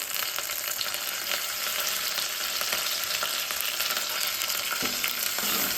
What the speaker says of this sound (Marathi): कोथिंबीर छान परतून घ्यायची आहे